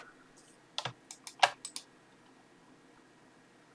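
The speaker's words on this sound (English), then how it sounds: "Delete, delete, delete on the keyboard." Delete key on a computer keyboard pressed repeatedly, about seven sharp close clicks in a quick uneven run, then quiet.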